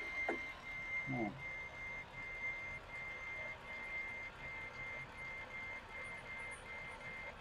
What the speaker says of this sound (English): it's definitely making the noise for reversing